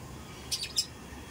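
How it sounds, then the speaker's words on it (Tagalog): Two short, bright bird chirps close together, heard over a quiet garden of plants with low background noise. "Ito ang ibon namin dyan."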